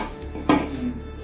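The lid of a pressure cooker holding boiling milk with ghee for paal payasam is set in place with a single short metallic clunk, close by, against a quiet kitchen hum.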